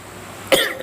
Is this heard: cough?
yes